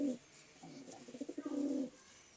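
A pigeon coos nearby, a low throaty warble with a quick pulsing run that swells into a sustained rolling coo, then falls quiet.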